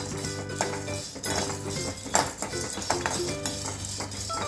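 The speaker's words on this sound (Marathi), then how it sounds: "पंपकिन सीड्स, सनफ्लॉवर सीड्स ते पण आपण थोडंसं भाजून घेऊ" Pumpkin and sunflower seeds dry-roasting in a pan for sesame ladoos, with a spoon clinking and scraping against the metal over a continuous hum, close and fairly quiet, with no talking.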